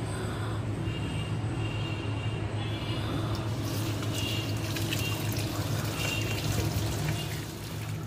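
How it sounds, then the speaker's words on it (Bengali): Tap water runs continuously while a hilsa fish is washed, a steady close splashing pour with faint handling sounds mixed in. "ইলিশ মাছটা ধুয়ে ফেলি।"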